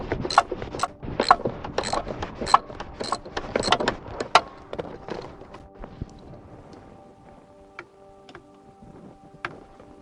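Ratchet undoing a bolt on an Austin Mini steering column, close rapid clicking strokes in bursts for about four seconds, then a few sparse metallic ticks and quiet.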